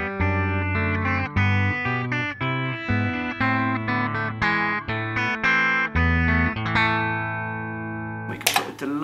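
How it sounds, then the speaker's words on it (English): Sustained electric guitar notes and chords ring out through a Line 6 Helix with a spacious reverb tail, played steadily for several seconds before a brief noisy burst near the end. "And we can put a nice bit of reverb in here."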